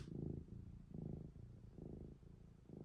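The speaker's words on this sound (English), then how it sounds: "She's purring." A cat purrs close up in a slow, steady rhythm of about four rumbling breath cycles, soft and alone.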